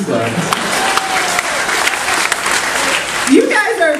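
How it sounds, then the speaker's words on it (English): Loud audience applause at a live comedy game show aboard a cruise, a crowd clapping steadily with some cheering and a brief voice rising near the end. "Please clap."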